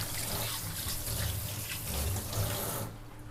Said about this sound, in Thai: เราก็ล้างมืออีกค่ะ